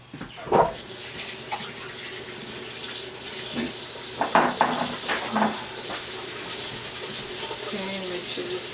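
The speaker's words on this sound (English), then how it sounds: "Let me rinse my hands off." Running kitchen tap water splashes as hands are rinsed under it, a steady moderate flow with a few sharper splashes and clatters, while a voice speaks briefly.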